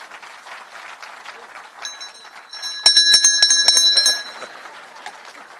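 A ceremonial bell rings at the Nairobi Securities Exchange, bright sustained metallic tones swelling over a crowd murmur and applause, then fading as the room noise continues.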